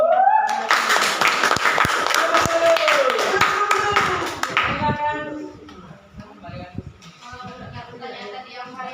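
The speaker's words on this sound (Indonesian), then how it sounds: "Beri tepuk tangan untuk" Audience at a school presentation on healthy living clapping hands, crisp sharp claps mixed with a voice and a musical tone, fading into sparser scattered claps near the end.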